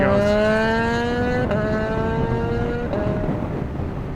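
A motorcycle, a Yamaha MT-09, accelerates steadily away, pitch climbing through two gear shifts, loud and continuous with no voices.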